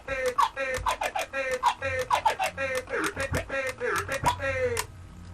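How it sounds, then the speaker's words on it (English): A DJ turntable swing flare scratch, done with two fader clicks, gives quick chopped stuttering bursts of pitch-swept sound in a steady rapid rhythm for about five seconds, fairly loud and close. "that's a swing flare, whereby you just do your 2 clicks"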